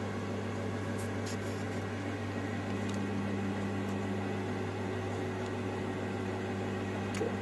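A microwave oven running in convection mode to bake sourdough bread gives off a steady, low, even hum with a faint fan whir and no other sounds.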